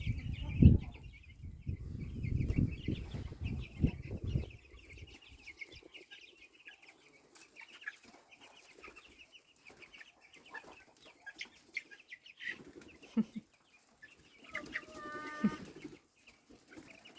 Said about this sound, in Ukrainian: Вийшли на свободу курчатка.